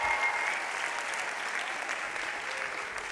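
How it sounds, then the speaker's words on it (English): Graduating McCourt School of Public Policy class of 2023 applauds at a commencement ceremony, a steady wash of many hands clapping in a large space, even and sustained throughout. "Give yourself a round of applause."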